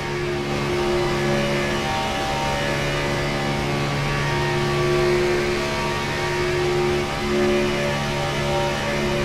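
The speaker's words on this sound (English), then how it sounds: "see if we can hear any engine noise" Steady, continuous race car engine drone from the iRacing video game, with sustained tonal harmonics, a loud mechanical hum that holds level throughout with no speech.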